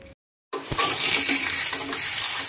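Water being poured for drinking: a steady, fairly loud splashing gush that starts after a brief silence and keeps running to the end.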